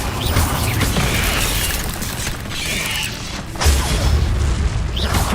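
Spell explosions from Confringo and Incendio in the Hogwarts Legacy game, heavy booming blasts and mechanical crunches over a dense, loud rumbling bed, with a sharp burst partway through.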